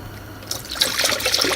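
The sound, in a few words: coolant being poured into a car's cooling system through a funnel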